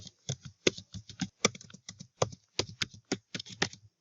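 Someone types Snapchat login details on a computer keyboard, producing a quick, uneven run of crisp close-up key clicks.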